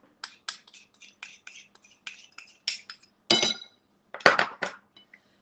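Spoon mixing baking soda into zucchini and white chocolate loaf batter in a bowl, a quick series of light taps and scrapes followed by a few louder clinks against the bowl, close and quiet.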